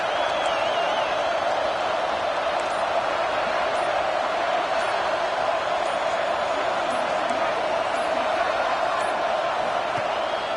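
A college football stadium crowd roars steadily for a big third down, a dense, sustained wash of cheering that holds at the same loudness throughout, with a commentator talking over it.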